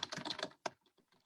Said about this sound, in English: Now, the first thing you do is type these commands.